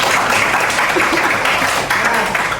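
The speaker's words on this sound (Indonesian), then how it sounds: "Oke, boleh tepuk tangan bareng." A classroom group clapping together, loud dense applause that carries steadily from start to end.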